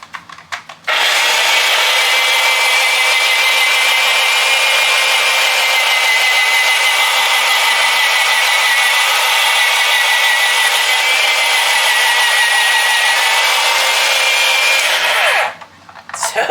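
A food processor shreds cheese for a big batch of broccoli cheese soup as the block is pushed down through the hopper: a loud, steady motor whir that starts abruptly, runs about fifteen seconds, then cuts off.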